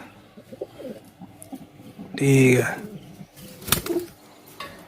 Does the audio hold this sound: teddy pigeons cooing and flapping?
yes